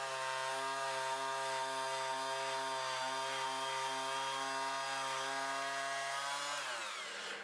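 A Fein MultiMaster oscillating tool fitted with a 4.5 inch sanding pad runs steadily while sanding a flat surface, giving a loud, constant high-pitched buzz that winds down abruptly at the end.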